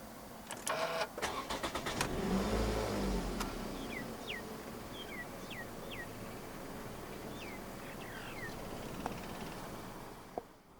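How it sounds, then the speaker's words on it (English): A 2009 Toyota Estima 2.4 2WD minivan is push-button started; a brief cranking burst settles into a steady low idle hum, with a few faint chirps in the background. "Put your foot on the brake and press the start button to the left of the steering wheel."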